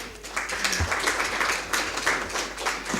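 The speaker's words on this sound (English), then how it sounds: "so clap for them." A conference audience claps, a dense patter of many hands sustained throughout at moderate volume, with no clear speech.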